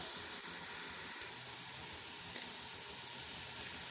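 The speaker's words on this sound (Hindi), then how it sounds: "ये देखिए हमारा प्याज लाइट सा गोल्डन ब्राउन होना स्टार्ट हो गया है" Soft, continuous sizzling of onions frying in a pot, an even hiss with a faint clink early on and no voices.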